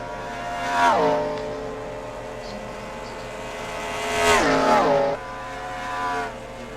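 NASCAR race cars in the NR2003 racing game roar past in two loud engine sweeps with falling pitch, a steady motor drone between them.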